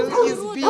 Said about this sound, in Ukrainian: Ні, це німецька овчарка.